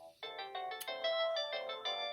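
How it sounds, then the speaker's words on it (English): A telephone rings with a bright, repeating electronic ringtone melody of short stepped notes, moderately near and continuous, with no talk over it. "The phone's going."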